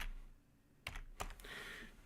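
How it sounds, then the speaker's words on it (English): Keys on a computer keyboard clatter in a few sharp, quiet clicks and short bursts, sparse and uneven, over a faint room hiss. "I'm not typing properly"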